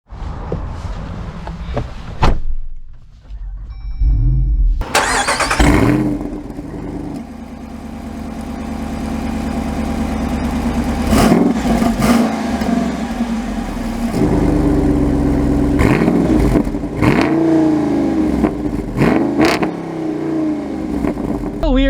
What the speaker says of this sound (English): Let's take this one out and drive it.